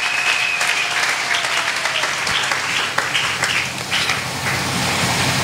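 A church congregation at a deliverance service in Mont-Ngafula claps steadily for several seconds, with dense, even applause filling the room and no voices standing out.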